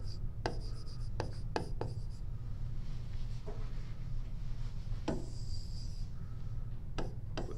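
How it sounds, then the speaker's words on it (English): Hand writing of the distance formula, marker or pen strokes scratching in short bursts with pauses between, close and fairly quiet over a low background hum. "Go to write distance formula."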